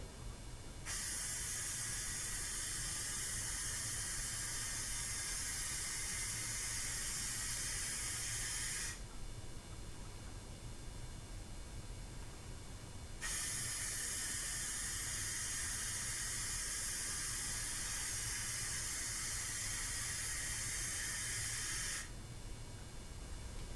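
Long hissing bursts of a spray gun applying dye to interior fabric of a Nissan 240SX S13, two sustained sprays of several seconds each separated by a short pause, close and steady.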